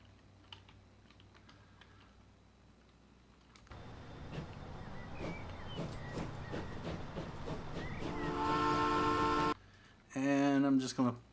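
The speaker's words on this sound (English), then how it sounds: "We have our very first freight train on this map." Freight train running in the game Transport Fever, a simulated rumbling rail sound that swells over several seconds amid keyboard typing and soft game chimes, with a voice talking over it.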